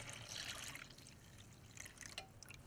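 Injection marinade pours into a pan of riblets stew on a hot box grill, a quiet, close liquid trickle and patter over low background hum, with no talking.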